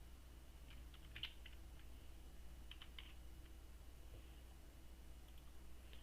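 Quiet, irregular tapping of an email address on a computer keyboard, a short burst of keystrokes followed by sparse clicks over a steady low hum.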